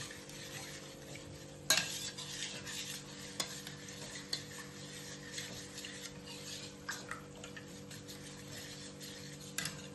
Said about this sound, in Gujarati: હવે આને બધું મિક્સ કરી દઈશું આવી રીતે પાછું આપણે.